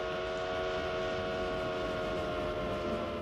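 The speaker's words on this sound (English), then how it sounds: "At the speed of a train, you can sense the change of pitch for sound, but not for light." A train rumbles steadily at close range, a continuous low roar with sustained tonal whine layered on top, holding at an even level throughout with no talk.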